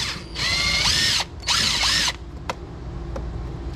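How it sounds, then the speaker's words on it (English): A Bauer 20-volt lithium impact gun from Harbor Freight drives out screws from a slingshot roof, firing two loud, rapid hammering bursts close up, followed by a few faint clicks. "Another trusty tool, impact gun from Harbor Freight, Bauer,"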